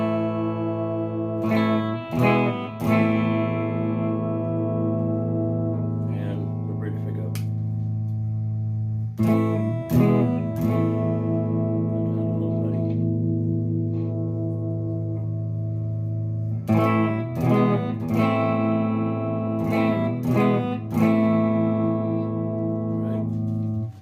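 Harley Benton SC-450 Les Paul copy electric guitar played clean on both pickups, strummed chords of a riff ringing out with long sustain and a few sharp rhythmic strums between held notes, steady and close.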